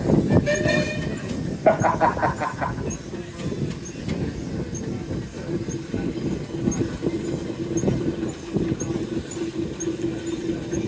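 A steam traction engine runs at the Lincoln steam rally with a steady rumbling chuff and mechanical clatter, and a brief whistle near the start. Fairground background noise surrounds it, with faint voices.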